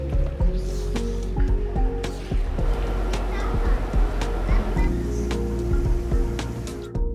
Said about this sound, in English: As evening approached, we moved over to the hot tub.